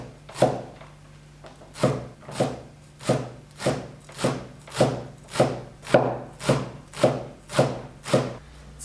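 A knife chops drained Chinese chives on a wooden board, about fourteen crisp, evenly spaced strokes in a steady rhythm, close and fairly loud with no talking.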